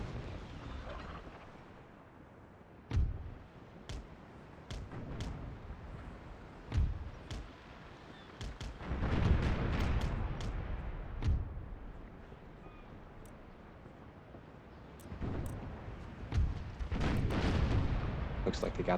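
Ship cannons fire broadsides in Empire Total War naval combat, booming in scattered single shots and a heavier rolling volley mid-clip, distant and rumbling, with someone talking intermittently.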